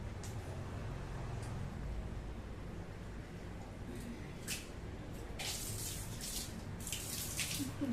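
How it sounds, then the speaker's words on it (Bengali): Water splashes and sprays over a dog being bathed, a continuous wet wash with a few brighter spurts toward the end, fairly close and without talk. "একটু জল দিয়ে দিয়ে দিই"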